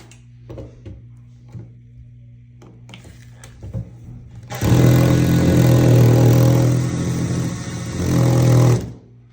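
A few faint taps and handling clicks, then a power drill with its smallest bit whirs loudly for about four seconds drilling a pilot hole for a shower system, its pitch dipping briefly as it bites in, before stopping.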